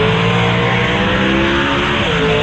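Turbocharged sixth-generation Chevrolet Camaro drag car idling at a race track, a loud, steady, rough engine drone held continuously at close range, with no talking over it.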